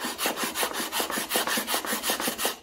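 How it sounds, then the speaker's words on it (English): Shooting sander fitted with 3M 775L Cubitron film stick-it discs, stroked along a wooden edge against a bench: about a dozen steady, rhythmic rasping strokes back and forth, close and fairly loud, with no voices. "The use of these 3M 775L Cubitron film bag stick-it discs in a shooting sander."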